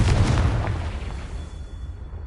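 The Confringo explosive spell in Hogwarts Legacy goes off as one heavy booming blast with a deep low rumble that slowly fades over about two seconds.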